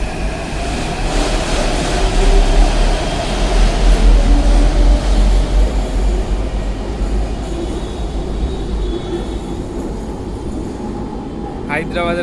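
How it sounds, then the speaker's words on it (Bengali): An elevated Hyderabad metro train pulling out of a station, a loud rolling rumble with rail clatter that swells and then fades, ending with a brief high squeal. "হায়দ্রাবাদের মেট্রো চলে গেল।"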